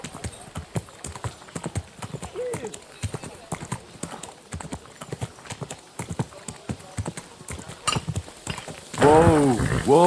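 Horse hooves clip-clop steadily in Kingdom Come Deliverance 2, a quick rhythmic patter of hoofbeats under a voice, ending with a louder whinny-like burst in the last second.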